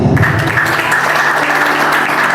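Church congregation clapping in praise, a full continuous wash of many hands clapping close and loud for the whole short stretch, with a faint tonal hum underneath.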